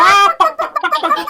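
Human voices imitate chickens clucking with a long high cluck followed by a run of short, choppy bursts, loud and close, as part of a children's storytelling session.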